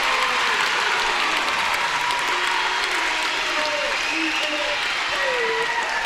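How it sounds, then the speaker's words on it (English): Volleyball fans applaud and cheer at a women's college match between the BJU Bruins and Pensacola Christian College Eagles, a dense, steady wash of clapping and crowd noise filling the hall throughout. "Crowd excited about this one as the Bruins now lead 8-5."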